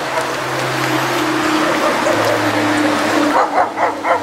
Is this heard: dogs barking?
yes